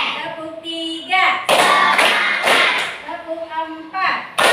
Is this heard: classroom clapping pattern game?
yes